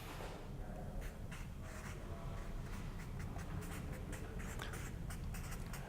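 Pen or marker writing by hand on a surface, a steady run of short scratchy strokes over a low background hum, close and continuous with no talking.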